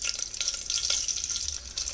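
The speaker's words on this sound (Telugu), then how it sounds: "ఆయిల్ వేడెక్కినాక పోపు గింజలు జీలకర్ర ఆవాలు వేసుకోవాలి" Cumin and mustard seeds splutter in hot oil for a tempering, giving a bright, crackling sizzle that stays close and steady without any talk.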